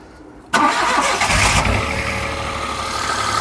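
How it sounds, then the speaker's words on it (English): Rover 75 three-cylinder car engine cranks and catches after a half-second of quiet, then settles into a loud, slightly rough idle that carries on steadily to the end. "Start her up and hopefully it works."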